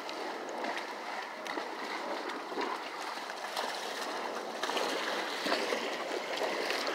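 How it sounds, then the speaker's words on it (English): Creek water flowing and gurgling at a trail crossing, a soft continuous rushing stream heard faintly and steadily with no talking. "We about to go across the creek."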